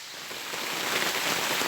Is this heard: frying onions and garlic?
no